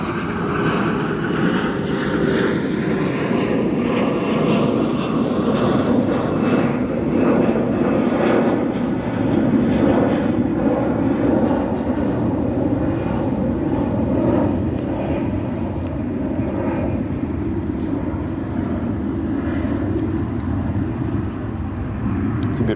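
An Atlas Air aircraft's engines at O'Hare Airport make a loud, continuous roar that holds steady for over twenty seconds, with a broad rumble and a faint hiss above it.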